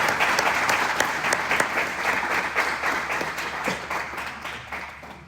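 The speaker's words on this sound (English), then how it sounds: "I would appreciate a big round of applause for the e-board here" Loud, dense applause from an audience at a university Hack4Impact project showcase, sustained across the whole stretch and slowly easing toward the end.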